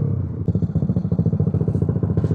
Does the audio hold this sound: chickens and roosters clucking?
no